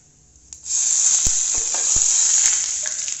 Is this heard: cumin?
yes